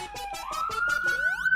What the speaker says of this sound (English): My apologies for the sirens if you could hear those.